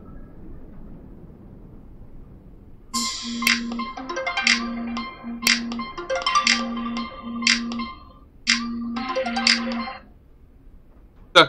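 A phone ringing inside the horror video game Resident Evil Village: a repeating electronic ringtone in regular bursts with short pauses, clear and fairly loud over a quiet ambient game background.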